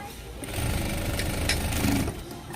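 A sewing machine stitching a strip of blouse fabric laid crosswise, a continuous close rapid mechanical chatter with steady rhythmic needle pulses running throughout.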